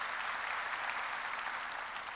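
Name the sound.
church congregation applause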